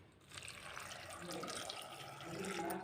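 Water poured from a glass into a cooking pot holding chana dal, turmeric and salt, a soft steady splashing fill heard close and fairly quiet throughout.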